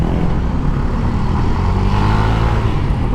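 Road traffic heard from a Yamaha Mio i 125 scooter, with a steady, loud rumble of car and truck engines and the scooter's own motor, continuous and close throughout.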